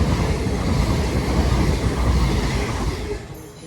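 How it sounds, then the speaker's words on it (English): Two coupled Class 221 units on a CrossCountry service from Oxford to Manchester Piccadilly roll past on the West Coast Main Line, a loud, steady broadband rumble of wheels and engines close by, easing slightly at the end. "here comes 221-133 and 221-137 on a cross-country service to Manchester Piccadilly from Oxford"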